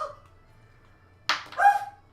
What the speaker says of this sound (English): you can at least tell it's some type of dog